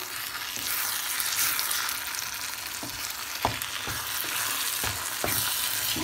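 Softened Chinese vermicelli noodles stirred in a hot frying pan, giving a loud continuous sizzle broken by sharp knocks of the spatula against the pan.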